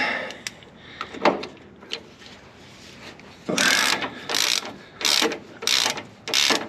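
Ratchet tightening a stiff bolt on a Range Rover Classic bushing, starting with scattered clicks and then turning into five loud, evenly spaced bursts of rapid ratcheting up close.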